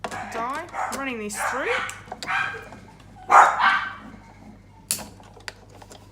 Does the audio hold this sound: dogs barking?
yes